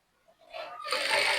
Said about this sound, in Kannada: ಹೀಗೆ ಎಡ್ಜಲ್ಲೇ ಒಂದು ಸ್ಟಿಚ್ ಹಾಕೊಂಡ್ಬಿಡಿ